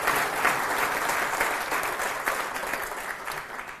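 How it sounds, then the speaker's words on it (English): A university lecture audience gives sustained applause, a dense, even wash of many hands clapping that fades slightly toward the end. "And I'd like to give it a round of applause."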